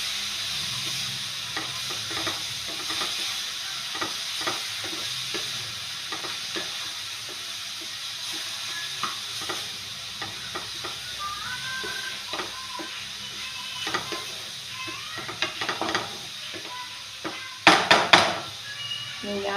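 Cabbage thoran cooking in a covered pan on a low flame, giving a soft, steady sizzle with frequent stirring scrapes and a brief louder clatter near the end; no one speaks.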